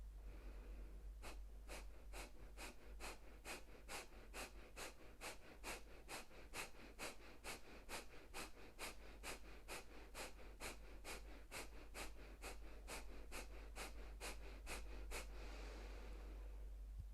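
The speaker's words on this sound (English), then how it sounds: "Inhaling and exhaling through the nostrils." Kapalabhati yoga breathing, a long run of about twenty-five sharp, forceful nasal exhales in an even rhythm, close and clear over a low steady hum, then stopping.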